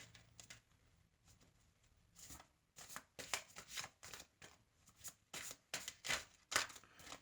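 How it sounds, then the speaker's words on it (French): Tarot cards being shuffled by hand, quiet riffles at first, then a run of rapid, crisp bursts growing louder and closer, alone without speech. "je mélange les cartes bien comme il faut"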